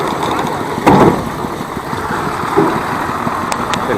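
A truck loaded with bananas idles with a steady low rumble, fairly close, with a few faint knocks and clatters mixed in.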